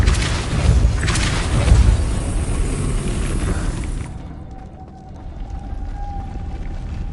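Depulso spell impact in the Hogwarts Legacy video game, a loud deep boom with a rumbling crash that cuts off sharply and leaves a faint hum behind.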